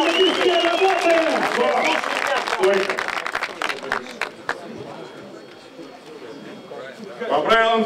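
Crowd applause at a combat sports event, a dense wash of clapping and cheering heard close and loud under a shouting voice and chatter, thinning out toward the end before a brief new burst.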